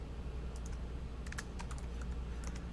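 Light, uneven clicks of a computer keyboard as code is typed, scattered key presses over a low steady background hum, quiet and close, without speech.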